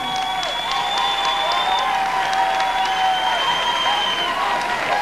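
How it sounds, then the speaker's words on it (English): Audience applause for delegates at a Miss Universe 2000 preliminary pageant, steady broadband clapping sustained throughout over sustained musical tones. "Please give a big hand for all of them."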